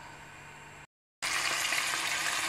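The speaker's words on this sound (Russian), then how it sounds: "Так, ну вот жарится." Food sizzles and crackles steadily in a hot pan while chicken fillet and vegetables for bulgur pilaf fry, a short cut to silence, then louder, brighter frying resumes close up.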